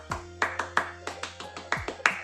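Rhythmic clapping for the tepuk anak soleh chant, about eight sharp, close claps in an uneven pattern, with faint pitched sounds between them.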